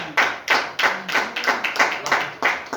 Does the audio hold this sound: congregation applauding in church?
yes